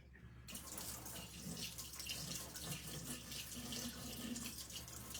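A tap runs steadily into a sink while a paint brush is rinsed under it, a continuous close splashing stream after a brief quiet start.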